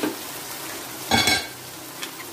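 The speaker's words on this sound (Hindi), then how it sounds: "इसको इतना भूनेंगे जो हमारी गर्दने भी अच्छे से इसमें पक जाए" Spiced chicken necks fry with browned onions in a pan, a steady close sizzle with a brief louder scrape of stirring partway through.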